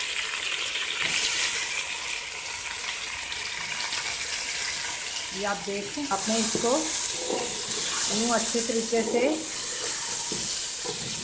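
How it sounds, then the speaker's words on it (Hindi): Steady sizzling and frying of meat with tomatoes in a pot for Sindhi biryani, with stirring scrapes, as someone talks over it in the middle stretch. "टमाटर डालकर इसको आपने अच्छे से भून लेना है। अब इसके साथ ही गोश्त भी डाल दूँगी"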